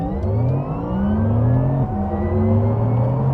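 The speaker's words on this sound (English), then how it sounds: "that electric driving noise gives you a pretty good idea" A 2025 Porsche Taycan 4S Cross Tourismo electric car accelerates hard, its rising electric whine climbing steadily in pitch and stepping down once before climbing again, loud and close.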